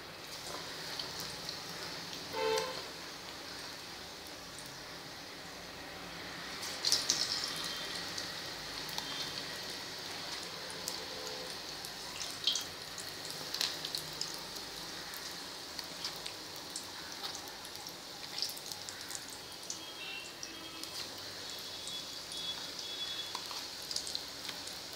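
Batata vadas, potato fritters in batter, deep-frying in hot oil on a gas stove, giving a steady, soft crackling sizzle with a few brief louder pops and no talk over it.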